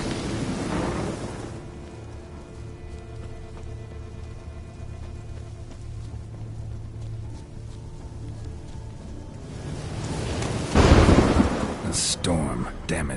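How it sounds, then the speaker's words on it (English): Thunderstorm in the video game The Witcher 3 Wild Hunt, a low rumbling roll of thunder with steady rain, building to a loud close crack near the end. "Storm, damn it."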